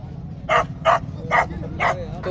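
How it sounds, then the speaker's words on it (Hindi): Dog market in Saddar, Karachi, where a dog barks at close range in four loud, evenly spaced barks over a steady crowd murmur. "हमारे कैमरामैन पे अटैक किया है कुत्ते ने"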